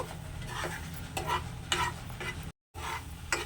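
Thick mango halwa being stirred in a pan, with repeated scraping strokes of a spoon against the pan over a low sizzle, steady and close, with one brief gap.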